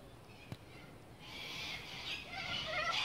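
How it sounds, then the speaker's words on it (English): Birds call outdoors in a steady, fairly faint chorus of high chirps that swells after the first second, with a single sharp knock early on and no talk. "Those bloody birds are annoying."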